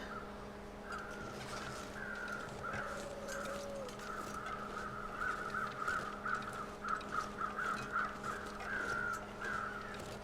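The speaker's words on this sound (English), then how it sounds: "These birds are still swarming around." Repeated harsh caws from several swarming birds in the video game The Long Dark, scattered and overlapping, over a steady low hum, moderately distant.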